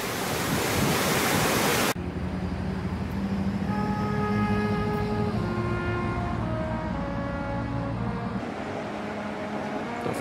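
A train at the north portal of the Gotthard tunnel, a brief loud rushing roar that cuts off as it enters, followed by a softer rumble with long steady whistling tones and wind noise.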